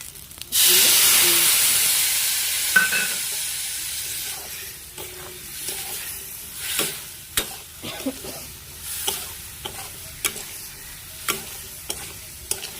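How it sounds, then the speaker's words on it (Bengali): Cauliflower frying with turmeric and chili powder in a hot pan: a loud burst of sizzle as the spices hit, settling into a steady frying hiss broken by repeated sharp scrapes and clinks of stirring. "ফুলকপিগুলো ভাজা ভাজা হয়ে গেছে"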